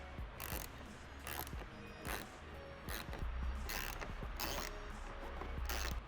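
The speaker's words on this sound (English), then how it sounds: "in here you have 2 T15 screws that we need to remove" Screws being backed out of the tail light trim on a Corvette C7 with a T15 driver, giving a steady run of close mechanical clicks and ratcheting creaks with no talk.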